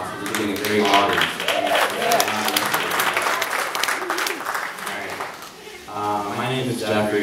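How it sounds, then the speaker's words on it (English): Audience applause fills a music venue at Bop Stop's anniversary show, a dense, steady wash of clapping with cheering voices mixed in, dipping briefly before swelling again. "Please give yourself a round of applause."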